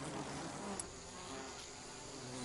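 Killer bees buzz in a steady, faint drone that holds throughout, with no other sounds.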